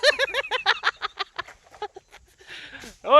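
Village fowl, likely chickens, give a close, loud run of rapid clucking calls that fades into softer scattered notes; a voice briefly joins before a sharp squawk at the end.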